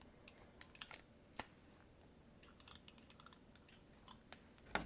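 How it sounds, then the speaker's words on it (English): Tape being pulled and pressed onto a transparency sheet for a BTS photocard binder, heard as a series of soft, scattered crinkles and taps in a quiet room with no talking. "So what I'm going to do is I'm going to tape it."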